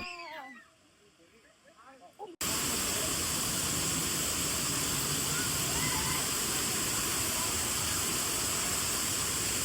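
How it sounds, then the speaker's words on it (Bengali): A large waterfall in the hills at Bhivpuri roars loud and steady, cutting in abruptly after a couple of seconds of brief voices and cries. "বড় ঝর্ণা দেখো শুধু কি সুন্দর লাগছে পাহাড়ের মধ্যে এরকম ঝর্ণা"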